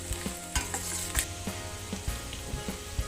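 Chopped onions fry in oil in a pan and are stirred for an egg keema masala. A steady sizzle runs throughout, with repeated scraping and knocking from the stirring utensil at close range.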